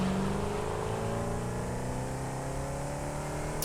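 The Explorer vehicle driving in the video game Satisfactory, giving a steady, loud engine drone with rising tonal whine as it accelerates, continuous throughout with no voices.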